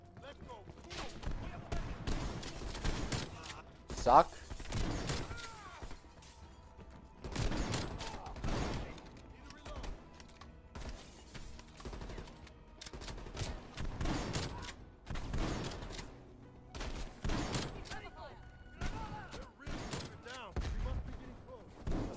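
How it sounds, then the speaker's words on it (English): Gunfire fills a Call of Duty Black Ops Cold War campaign battle: dense, overlapping rifle bursts and booming shots hammer away almost without pause, loud and close, while a voice speaks over the fighting. "Oh shit, I'm getting shot up."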